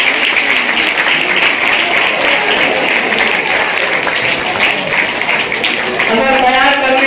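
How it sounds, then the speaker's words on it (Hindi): Audience applause at a school na'at recitation competition in Malegaon, a steady wash of clapping from a hall crowd with voices mixed in and someone speaking near the end. "तालियां होनी चाहिए इनके लिए।"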